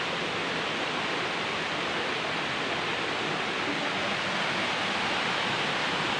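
A waterfall near a hillside Eswaran temple gives off a steady, dense broadband rush that stays constant and fairly loud for the whole stretch, with no voices.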